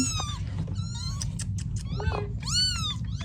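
Several loud, close meows from a mother cat in quick succession, some rising and falling in pitch, over a low steady rumble.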